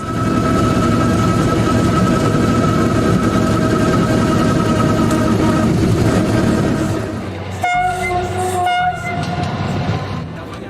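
An X 2400 railcar with two 300-horsepower diesel engines, one at each end, gives a loud, steady, droning engine roar with sustained tonal hum. The tone shifts and drops slightly near the end. No voices.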